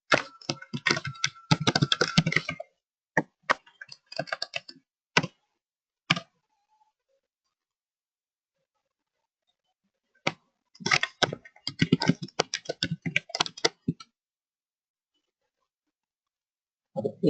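Computer keyboard typing while writing code for a user-defined function, heard as close bursts of rapid key clicks separated by silent pauses.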